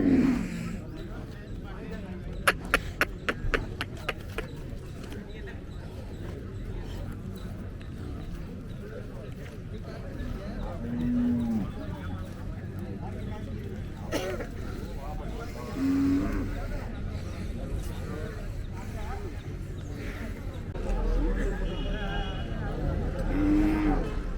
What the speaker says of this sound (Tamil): இன்றைக்கி பார்த்தீங்கன்னா சந்தையில் நிறைய மாடுகள்